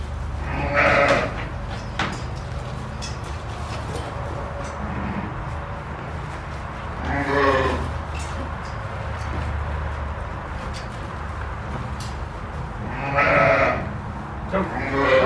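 Feeder lambs and sheep in a pen, bleating close by in three loud, drawn-out calls spread evenly across the clip, with a low rumble running underneath.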